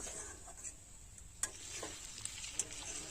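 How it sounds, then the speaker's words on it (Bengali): A spoon stirs kuche fish and potato curry in a pan. Faint sizzling runs throughout, with a few sharp scrapes and clinks over about three seconds and no talking. "অল্প করে জল দিয়ে দেব দিয়ে এক মিনিট খুব ভালোভাবে নাড়াচাড়া করে নেব"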